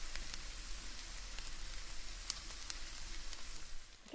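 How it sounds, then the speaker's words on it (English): Onions sizzle steadily in a hot pan, a dense, even crackle with scattered sharp pops, close up and without talk. "we'll put the onions in. because those will take a little bit longer. Ooh, sizzle, yeah, look sizzle."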